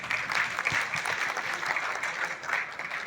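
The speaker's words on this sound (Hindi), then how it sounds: "सर के लिए भी जोरदार तालियां हो जाए।" An audience at the Crowne Plaza in Delhi gives a round of clapping for a speaker, a continuous even patter of many hands at moderate loudness with no talking over it.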